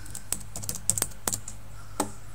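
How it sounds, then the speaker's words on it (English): A password is typed on a computer keyboard: a close, irregular run of sharp key clicks, a few keys struck in quick pairs, over a faint steady hum. "it starts with me typing in my password"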